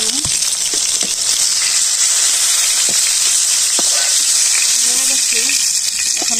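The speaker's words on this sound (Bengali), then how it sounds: "পটল আমার আধা ভাজা হয়ে গেছে" Half-fried pointed gourd pieces crackle and sizzle in hot oil, a loud steady hiss throughout with occasional sharper pops and faint clinks.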